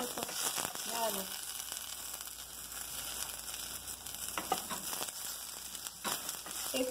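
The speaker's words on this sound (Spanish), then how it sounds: "Y sofreímos un minuto, nada más." Epazote leaves and onion slices sautéing in a pan for frijol colado, a continuous close sizzle with crackles and occasional stirring scrapes, with a faint hum underneath.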